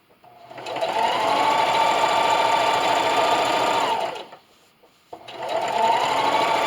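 A sewing machine stitches along the seam of a towel, running loud and steady for several seconds, stopping briefly, then whirring back up again.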